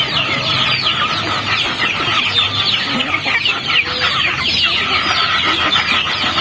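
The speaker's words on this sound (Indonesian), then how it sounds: "Ayam kampung ini jenis ayam dari KOP ya." A flock of free-range KOP village chickens on a farm clucks continuously and densely, loud and near, with overlapping calls and no talking.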